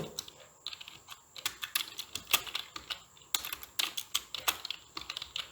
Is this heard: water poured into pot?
no